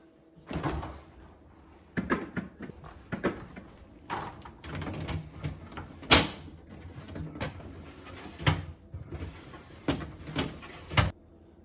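A Frigidaire Gallery refrigerator drawer, freshly repaired, slides back into its track with a series of close plastic knocks, scrapes and thuds spread unevenly throughout.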